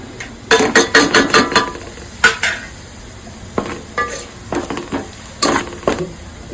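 Crab fat frying in hot oil, with bursts of sizzling and several sharp clinks and scrapes of a utensil against the pan, close and loud, in uneven clusters with no speech.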